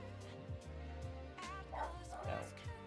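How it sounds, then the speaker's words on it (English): A small dog barks and yips in the background, faint and distant, as a few brief yaps under a steady hum and soft nearby noises. "you can probably hear the little doggy in the background"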